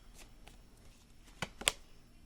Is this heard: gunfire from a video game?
no